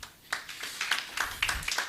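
Clapping from an audience at a report launch event, sparse, uneven claps in loose clusters rather than full applause, moderately close.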